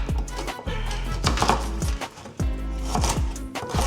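A sharp knife chopping vegetables on a board in quick, even strokes, close and loud, a steady run of crisp knocks with no talk.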